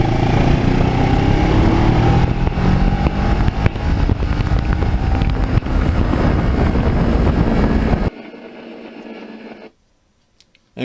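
A Kawasaki Ninja motorcycle riding through the scenic Brandywine area, a steady, loud engine drone buried in heavy wind roar that drops sharply near the end and then fades almost to silence.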